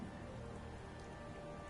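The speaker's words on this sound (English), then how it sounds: "It's raining. That's nasty." Steady rain falls in Fallout 4, a dense, even hiss of drops on surfaces with no pauses and no voices, continuous and moderately loud throughout.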